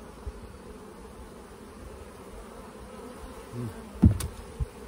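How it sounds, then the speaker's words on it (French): Honey bees buzz in a low, steady drone, fairly faint, with a couple of sharper buzzing passes near the end, around honeycomb being moved into a bowl. "parce qu'il y a des abeilles dessus"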